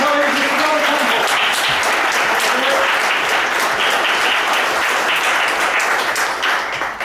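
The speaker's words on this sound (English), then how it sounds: "So please, a round of applause for my friend and colleague, Mr. Robert Campbell." Sustained audience applause fills a hall at a hypnotherapy and NLP event as a colleague is welcomed to the stage, dense, loud clapping throughout with a faint voice underneath near the start.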